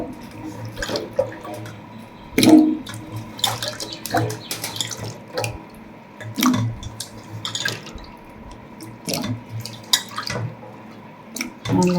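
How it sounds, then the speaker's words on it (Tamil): Small taro-like tubers (sirukilangu) are washed under a running kitchen tap. The water streams and splashes with repeated close scrubbing knocks and clatters scattered irregularly throughout. "நல்லா கழுவிட்டு"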